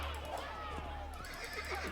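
Horse whinnying in Assassin's Creed Brotherhood, a rising and falling neigh over hoof clip-clop and game ambience, with someone talking over it.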